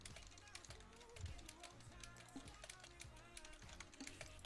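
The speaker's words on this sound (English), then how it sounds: "He's typing." Rapid keystrokes on a computer keyboard during a ranked team game session, a soft steady patter of taps under nearby voices chatting.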